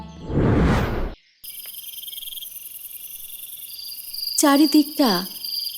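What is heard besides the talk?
crickets chirping at night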